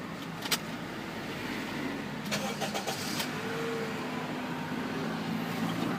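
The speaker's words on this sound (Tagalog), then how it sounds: "So paandarin muna ho natin yung makina." A Honda Accord with a cylinder 3 misfire is cranked and started, then settles into a steady, close engine hum with a few sharp clicks near the start and the middle.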